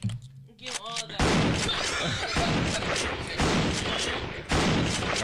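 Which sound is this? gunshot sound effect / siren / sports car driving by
gunshot sound effect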